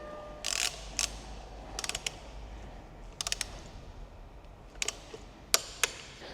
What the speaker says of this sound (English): I'm going to do that on both sides first before I actually tighten them up to the right torque setting